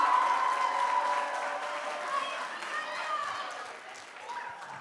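A crowd claps for Rosalia at a school prom in Żyrardów, steady dense applause filling the room and slowly fading toward the end, with voices mixed in.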